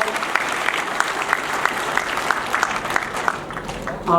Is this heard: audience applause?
yes